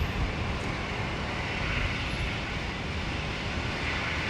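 An aircraft lands on runway 19 right at Brisbane airport, its engines giving a steady, broad roar that stays loud and continuous with no talk.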